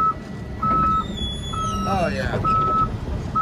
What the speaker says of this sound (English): Just pushing all these buttons over here.